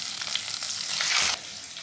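Curry leaves hitting hot oil for a Kerala lunch of drumstick-leaf pulissery and koorka mezhukkupuratti, crackling in a loud, dense sizzle that swells sharply near the end and then eases off slightly, with no voices.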